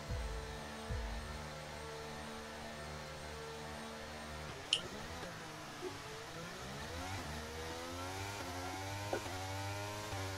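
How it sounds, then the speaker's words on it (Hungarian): A vacuum cleaner runs faintly in the background as a steady droning whine that shifts in pitch partway through, with a few soft knocks and no voices. "porszívózik"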